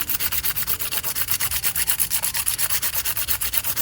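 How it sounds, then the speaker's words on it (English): Hand file rasping back and forth over a builder gel fingernail surface in a fast, steady rhythm of short strokes, close and loud, with no talking. "I'm also going to file over the surface."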